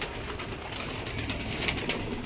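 Pigeons coo softly over a steady background hiss, their low murmuring calls repeating close by.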